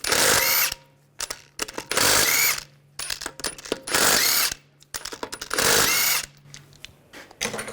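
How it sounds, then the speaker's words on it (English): A power tool with a 17mm socket spins lug bolts off a 2009-2017 Volkswagen Tiguan wheel in several loud bursts of whirring and ratcheting, separated by short pauses with small clinks, close up. "Using a 17mm socket, we're going to take these lug bolts off."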